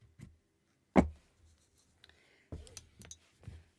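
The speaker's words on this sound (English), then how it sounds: "go ahead and cut your yarn." Yarn is snipped while crocheting a poncho, heard as a few sharp, close scissor clicks and snips spread across a quiet moment, one louder cut followed by several lighter ones.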